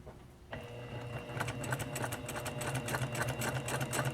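A sewing machine understitches through a garment facing and both layers of interfacing, close beside the seam. It starts after a short quiet moment and then runs steadily with a fast, even needle rhythm. The stitching is close and moderately loud, and no one talks.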